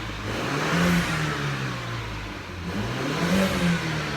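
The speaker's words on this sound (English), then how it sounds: "Car runs" A 2013 BMW X1 engine running steadily nearby, a smooth mid-pitched hum with a couple of gentle rises in revs, no talking.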